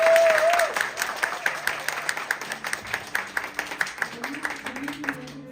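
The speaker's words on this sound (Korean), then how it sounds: "교수님께 다시 한번 박수 한번 부탁드립니다" Lecture-hall audience applauding a professor at the close of a live human-library book concert, steady dense clapping running the full length with a voice speaking faintly over it.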